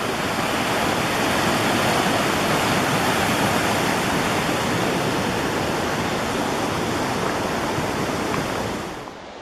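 A mountain creek near a high-altitude climbing route rushes loudly and continuously, a close, dense broadband roar of water that holds steady before dropping off slightly at the very end, with no voices.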